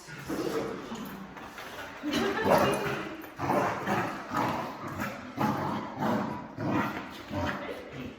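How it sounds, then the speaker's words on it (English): Golden retrievers bark in repeated bursts while playing at moderate distance, a rhythmic series of barks with scuffling in between. "some dogs are really loud when they play"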